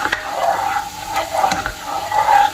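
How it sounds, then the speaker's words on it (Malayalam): Cheese being stirred into single cream in a pan until melted, a soft wet scraping with faint sizzle in short repeated strokes, close and moderately loud with no talking. "ഇതാ ഇനിയിപ്പോൾ നമുക്ക് ഇത് മെൽറ്റ് ആകുന്ന വരേക്ക് ഒന്ന് മിക്സ് ചെയ്ത് കൊടുക്കാം"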